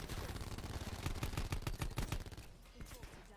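Paladin HB50 sniper rifle gunfire and surrounding multiplayer combat in Call of Duty Black Ops 4, a rapid series of loud cracking shots over about two seconds that then trails off into quieter battle noise.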